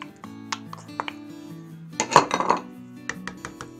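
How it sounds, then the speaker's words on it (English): Bacon and onions drop into a pot for maple baked beans cooked over a fire, bringing a few soft clinks and a brief clattering burst of pot and utensil noise near the middle. "Just add everything into the pot and give it a stir"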